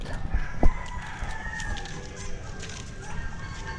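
Chickens at a rural home cluck and a rooster crows near the start, with a sharp knock, scattered bird calls and outdoor background noise throughout.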